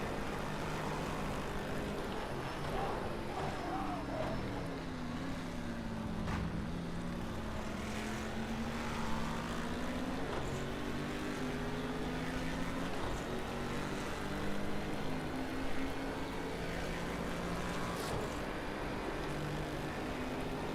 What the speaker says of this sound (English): that's just this car's engine noise, strangely enough